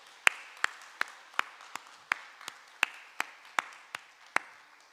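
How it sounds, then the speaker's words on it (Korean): Sparse, evenly spaced single hand claps, about a dozen sharp slaps in slow steady rhythm, fairly faint in a church hall during a Sunday afternoon service. "우리 박수 한번 보내드리겠습니다"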